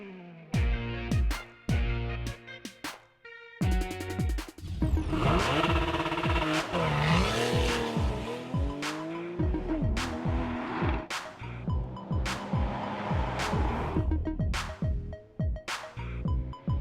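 Porsche 911 GTS engine and exhaust in Sport Plus mode on the road, with sharp revving bursts, rising and falling pitch sweeps through gear changes, and loud crackling pops in between.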